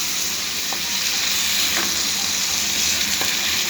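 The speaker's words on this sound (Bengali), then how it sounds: "ভালো করে নেড়ে দেব" Cauliflower, potato and flat beans fry in spices in a pan, making a steady, loud, close hiss with a few light stirring scrapes.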